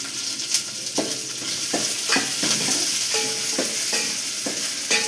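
Grated coconut is roasted and stirred in a pan for egg curry, giving a soft steady sizzle with repeated scraping strokes of a spoon at irregular intervals, close and fairly loud, with no voice.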